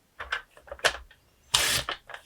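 Scissors snip through patterned craft paper for a card pocket: several short, close cuts, with one longer crisp slice partway through.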